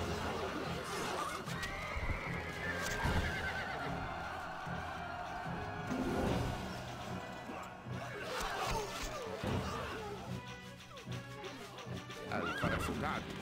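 A horse in the Stronghold: Crusader strategy game whinnies loudly and gallops with clip-clopping hooves, the neighs rising over steady hoofbeats and game background sounds.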